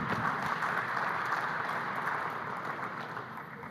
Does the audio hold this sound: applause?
yes